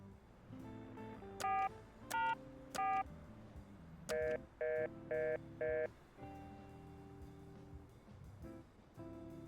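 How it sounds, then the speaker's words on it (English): Phone keypad tones sound in the video game Placid Plastic Ducks: several sharp dialing beeps in short clusters, a run of four evenly spaced tones, then quieter electronic tones over a soft background hum. "You may have to dial something on the phone."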